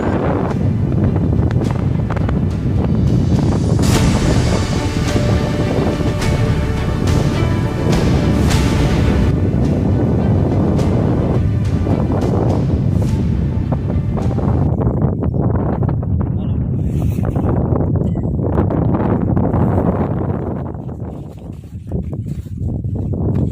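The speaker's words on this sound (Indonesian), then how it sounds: "kami pun dihantam dengan angin yang sangat kencang" Very strong wind near the summit of Mount Sumbing, loud gusts buffeting the microphone in heavy continuous roaring that eases and thins briefly near the end.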